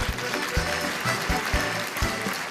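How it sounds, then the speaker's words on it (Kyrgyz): Audience applause at a team quiz contest: a couple of seconds of dense, steady clapping from a crowd, with a low musical hum running underneath. "Рахмат, кол чаап коелу."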